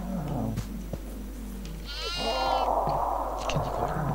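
A goat bleats loudly in a single drawn-out, wavering cry close by, preceded by brief indistinct sounds and followed by a noisy rustle.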